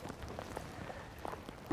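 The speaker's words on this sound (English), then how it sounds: "It's raining, it's pouring" Steady light rain patters on a surface, with scattered droplet ticks and a soft hiss throughout, no voices.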